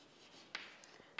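A pen writes a footnote on paper in a statistics exercise, giving two or three quick, faint scratching strokes close by in a quiet room.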